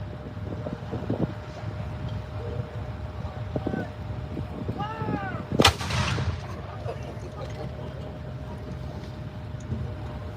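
An artillery cannon fires at an outdoor tank weekend show: a single sharp, loud boom cracks out midway, set against steady wind noise and a low background murmur before and after.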